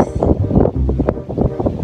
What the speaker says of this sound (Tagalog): pasensya na sa hangin, pasensya na sa ingay ng hangin.